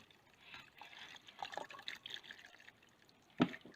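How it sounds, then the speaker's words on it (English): Rendered fat for tallow being poured into a sieve: soft, faint liquid trickling and dripping with uneven splashes, then a sharper knock near the end. "I'm just going to pour it into this"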